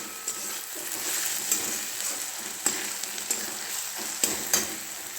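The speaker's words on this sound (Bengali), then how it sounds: "দেখো আমার পেঁয়াজ ভাজা হয়ে গেছে প্রায়।" Onions frying in a pan for a mutton dish, a steady close sizzle with occasional sharp scrapes and clinks of a spoon stirring, no voices.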